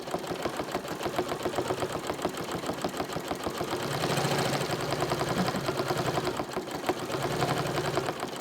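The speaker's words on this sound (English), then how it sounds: "What I like about this is when you stop, it continues to sew, so I can make a nice point." A Bernina sewing machine with a stitch regulator does free-motion stitching on a quilting practice sheet, giving a steady, fast, close mechanical chatter that swells slightly in the middle and runs without pause.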